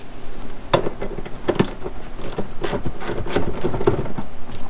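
Light metallic clicking and ratcheting as a 14 mm wrench works the seat bolts loose in a Hyundai Genesis Coupe, with small irregular taps and jingles close up and no talking.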